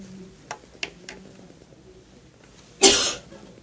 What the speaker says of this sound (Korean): 제가 좀 감기가 걸렸는데 계속 대화를 하다 보니까 계속 기침이 나고